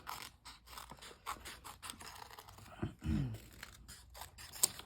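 Scissors snip through paper to cut out small Halloween-style decorations such as bats for a planner spread, a run of soft crisp cuts and faint scraping close by, with no talking.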